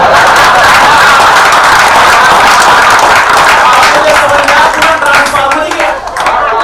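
A crowd at a comedy poetry show claps loudly and continuously for several seconds, a thick, even wash of applause that thins briefly near the end, with a voice faintly audible beneath.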